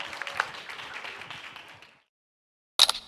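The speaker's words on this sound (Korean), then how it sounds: "두 분 연사님께 다시 한번 큰 박수 부탁드립니다" Conference audience at an assistive AI event gives a round of applause for two speakers, a dense clapping wash fading out by two seconds, followed by silence and then a short sharp burst near the end.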